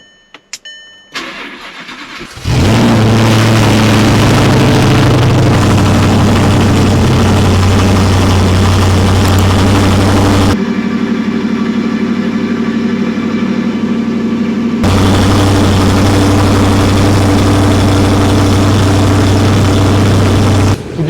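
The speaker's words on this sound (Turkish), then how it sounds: "Bir buçuk ay sonra gelen soğuk motor sesi" Audi R8 started cold after sitting for about a month and a half in Dubai; after a short whir the engine fires with a loud rev, then settles into a deep, steady idle that drops briefly before the rumble returns.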